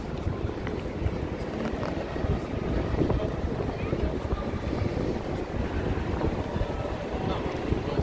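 Steady wind blowing outdoors along the High Line in New York City on a warm day, a continuous low rushing buffet across the mic with faint street ambience beneath.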